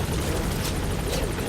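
Helicopter in the Metal Gear Solid V: The Phantom Pain video game, a steady loud rotor roar with rhythmic blade chopping, close and continuous throughout, with no voices.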